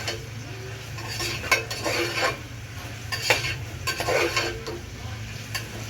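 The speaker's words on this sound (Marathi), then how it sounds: "अद्रक आणि लसूणची पेस्टच्या जागी त्याला असं चेचून क्रंच करूनच टाका." Crushed ginger and garlic frying in a pan with onions, a constant close sizzle broken by repeated metal spoon scrapes and stirring clatter throughout.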